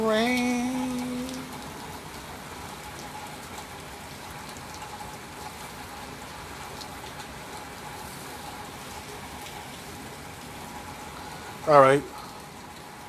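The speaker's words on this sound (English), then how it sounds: "As y'all looking at the rain, walk down through the rain." Steady rain falls on a stormy day as a soft, even hiss throughout, with a voice speaking briefly at the start and a short burst of another voice near the end.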